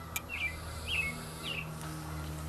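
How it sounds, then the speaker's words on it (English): Several short bird chirps sound outdoors, three distinct calls spaced about half a second apart over a steady low background hum, moderately faint and not close. "The birds are getting a little wild out there."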